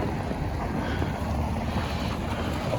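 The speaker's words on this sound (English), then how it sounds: "Must be a little bit of a wind." Steady wind blowing outdoors on a frigid, brisk December afternoon in downtown Yellowknife, a continuous broadband rush and rumble buffeting the microphone with no breaks.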